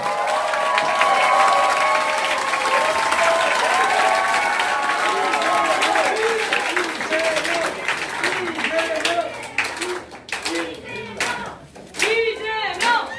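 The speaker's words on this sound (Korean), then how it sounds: "큰 박수로 이재명 당 대표님을 맞이해 주시기 바랍니다." Audience applause and cheers welcoming party leader Lee Jae-myung at a Jeju town hall meeting, loud sustained clapping with excited voices that thins into scattered claps and talking near the end.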